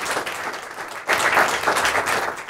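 An audience at a startup pitch event applauds, with light clapping that swells into a louder sustained round partway through.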